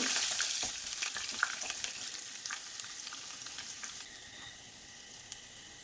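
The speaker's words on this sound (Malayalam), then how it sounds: "ഒരു 4 അല്ലി വെളുത്തുള്ളിയും കൂടി ചതച്ചെടുത്തിട്ടുള്ളതാണ്, അത് നമുക്ക് ഈ എണ്ണയിലേക്ക് ഇട്ട് കൊടുക്കാം." Crushed garlic cloves frying in oil, a faint continuous crackling sizzle with small sputtering pops, close by and gradually settling quieter.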